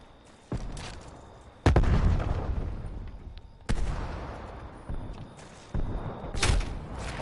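Heavy explosions and gunfire in a multiplayer first-person shooter match, including a frag grenade blast: several loud, sharp booming bursts at irregular intervals, each followed by a rumbling decay, over continuous background battle noise.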